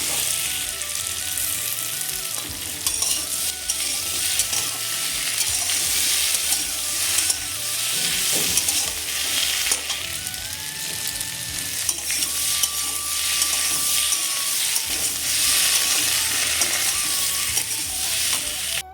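Pumpkin frying with a paste of ground ginger and cumin in a vegetarian dish, a sustained hiss and crackle with scraping stirs throughout and faint clinks of utensils, no voices.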